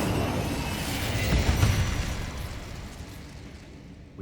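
A fire spell cast in Hogwarts Legacy during combat with a spider lets out a roaring burst of flame that swells to a peak, then fades into a long, dwindling rumble.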